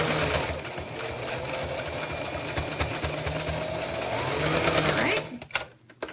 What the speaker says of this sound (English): you're going to use your zipper foot and sew as close to the zipper as you can